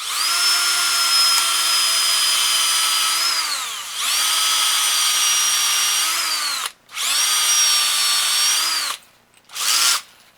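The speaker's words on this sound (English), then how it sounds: "I actually have this bit here that I chuck in my drill" A power drill whirs loudly in long steady runs, winding down and restarting several times with brief pauses between bursts.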